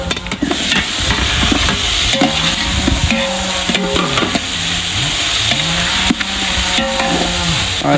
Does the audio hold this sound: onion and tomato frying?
yes